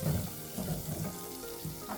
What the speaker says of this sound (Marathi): आपण आता हा मसाला या तेलामध्ये परतून घेणार.